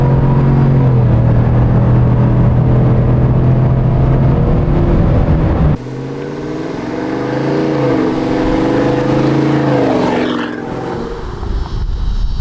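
A Chevrolet Silverado pickup engine breathing through a Corsa Sport exhaust, idling with a steady low rumble, then revving up with a rising, roaring sweep before settling back down, loud and close with no talking.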